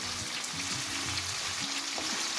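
Jacket potatoes frying in a pan give off a steady close sizzle, with faint stirring movement and low bubbling underneath, no voices.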